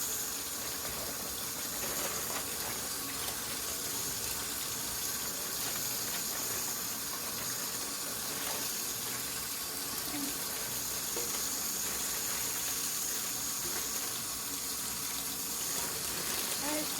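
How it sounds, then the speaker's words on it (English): Kitchen tap water runs steadily into a sink, rinsing away raw chicken blood, producing a constant close splashing hiss for the whole stretch with slight variations in flow and no pauses. "Rinse everything down the sink, all the blood is down the sink"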